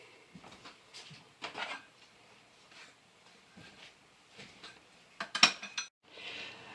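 A spoon scraping and clinking against a hot baking dish filled with juice, in faint, scattered taps and scrapes with a sharper clink near the end.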